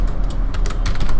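Rapid, close typing on a computer keyboard, key clicks tapping in a quick irregular run with no voices.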